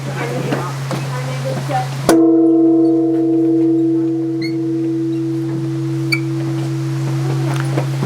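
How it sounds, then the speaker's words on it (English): A large temple bell at Daisho-in temple on Miyajima is struck once with a sharp loud hit, then rings on in a long, slowly fading hum with steady overtones, over a constant low background drone. "So there's this really cool bell here that you can ring"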